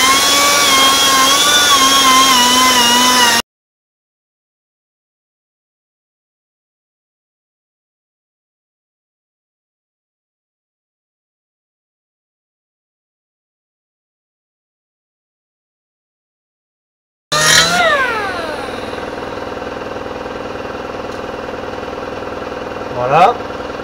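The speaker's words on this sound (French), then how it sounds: "ni plus ni moins qu'une meuleuse, avec une sorte de brosse à peine abrasive, juste pour retirer le surplus de joint qui a séché." An angle grinder fitted with a lightly abrasive brush scrubs dried gasket sealant from a 2016 Skoda Fabia III 1.2 TSI gearbox casing during a bearing change, a loud whining drone that cuts to a long silence before spinning up again.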